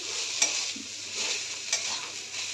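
Leafy greens frying with garlic in a kadai give a steady, close hiss of sizzling oil, broken by two sharp clicks of a spatula stirring against the metal pan.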